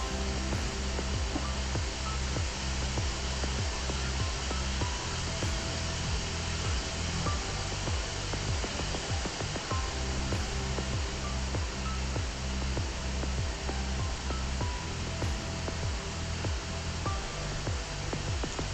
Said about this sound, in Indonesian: inilah dia proses pengelasan lastik jalur I dengan menggoyangkan secara perlahan, bergerak maju sambil melihat cairan las